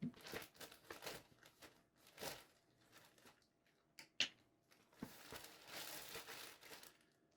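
Plastic packaging from a manga shipping parcel crinkles and rustles as it is pulled open, in irregular close bursts separated by brief pauses, with no talking.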